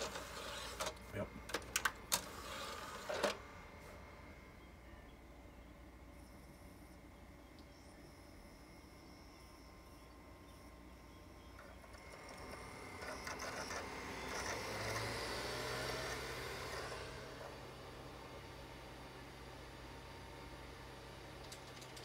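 The disc drive of a 2005 Xbox 360 Xenon console spins up, a steady mechanical whir and hum that grows louder partway through, after a few sharp clicks and handling noises and faint talk.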